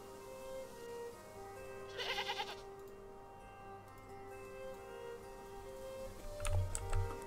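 A goat bleats twice in the Star Stable video game, short wavering calls over a steady hum of game ambience and faint ticking, with a second brief bleat near the end.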